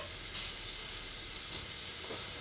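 Onion cooks on a very hot grill pan with a soft, steady sizzle and a few brief hissing flares. Nobody speaks.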